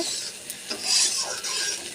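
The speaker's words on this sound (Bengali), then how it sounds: "আমি ঢেলে দিচ্ছি চিচিঙ্গেটা দিয়ে ভালো করে নাড়িয়ে নেবো" A spatula stirs snake gourd frying in a pan, giving a close, continuous sizzle with scraping strokes that swell in the middle and then settle, with no talking.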